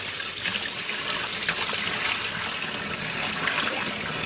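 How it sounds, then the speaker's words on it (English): Tap water gushes steadily while freshly dyed yarn is rinsed at a sink, a loud continuous splashing rush that holds close and even throughout, with no talk. "I am going to keep rinsing this until the water runs clear"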